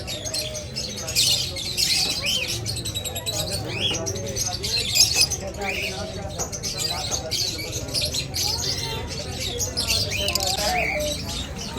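At a Karachi bird market, a lutino golden breeding pair and other caged birds chirp and squawk constantly, dense and close, while someone talks over the chatter.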